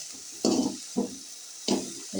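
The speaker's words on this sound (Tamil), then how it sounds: "வானலில் எண்ணெய் விட்டு கீரையை கொஞ்சம் வதக்கிறேன்" Greens (mudakathan keerai, balloon vine leaves) being sautéed in oil in a wok, heard as three distinct stirring scrapes, each followed by a short sizzle, close by over a faint steady hiss.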